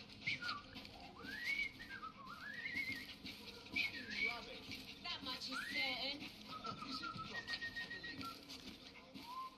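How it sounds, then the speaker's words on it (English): A character whistling a meandering tune in the game Assassin's Creed Syndicate, faint rising and falling notes over background chatter and street ambience, with people talking. "I've just learned to whistle."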